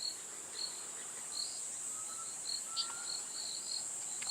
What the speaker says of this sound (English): We've got a mix of insects, frogs, some diurnal birds,